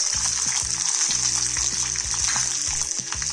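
Whole garlic cloves and roughly cut red onions frying in hot oil with whole spices for chicken khada masala, a steady loud sizzle throughout with no talking, a faint low musical tone underneath.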